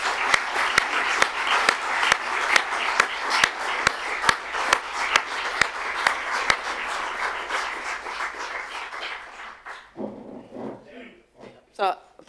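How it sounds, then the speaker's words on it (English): Applause from a conference audience at a policy and technical keynote session as institutional speakers depart, dense steady clapping that fades out after about nine seconds, followed by a few scattered sounds. "let's give them a big round of applause and a big thanks"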